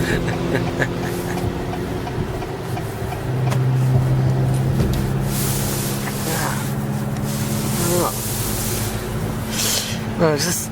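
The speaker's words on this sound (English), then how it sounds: "I promise you that is not this TLX that's making the noise, but it's the Subaru up front of us" A Subaru car driving ahead produces a steady low road and engine rumble heard from inside a following 2021 Acura TLX, with cabin noise and quiet talk over it.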